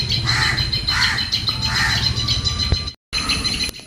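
Crows caw in three loud, raspy bursts near a house, with smaller birds chirping around them against a steady outdoor background.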